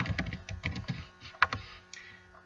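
Keystrokes on a computer keyboard during Photoshop editing, a quick irregular run of close clicks with one sharper, louder tap near the middle before the typing thins out.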